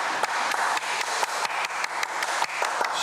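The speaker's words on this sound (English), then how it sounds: "Should we slow clap them?" A few people clap together on a beach, giving a steady series of crisp, evenly spaced claps that fills the short moment on its own, near and moderately loud.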